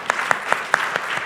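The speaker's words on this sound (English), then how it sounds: "Can we have a louder round of applause" A round of applause from an audience at a talk on AI, AR and gamified therapy for autism support, with claps landing in a steady, evenly spaced rhythm over a brief moment at moderate loudness.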